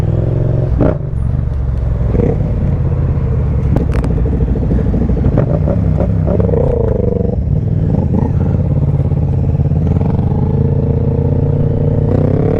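Motorcycles ridden on a leisure ride in the rain, loud close engine rumble with revving and shifting pitch, rattling and clattering throughout, wind and road noise steady underneath.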